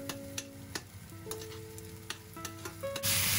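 Garlic is stir-fried with onion in a pan for Filipino beef sinigang, with a soft steady sizzle and periodic stirring taps, then a sudden louder hiss of frying in the final moments.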